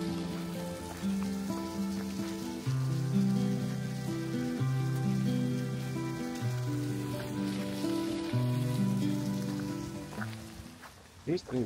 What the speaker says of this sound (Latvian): smidzina lietiņš ir silts